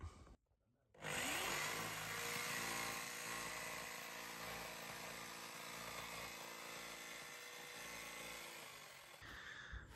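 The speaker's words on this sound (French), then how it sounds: "on va prendre la scie sauteuse et s'occuper de la découpe" A jigsaw fitted with a metal blade saws through a truck body panel during a camper conversion: after a short pause it starts up and holds a loud, steady, rasping buzz for about nine seconds before stopping.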